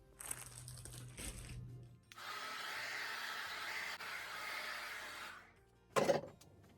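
A hair dryer blows steadily on natural hair being prepped for box braids, a sustained close whoosh of about three seconds that starts and cuts off abruptly, with crinkling handling noises before it and a brief sharp rustle after.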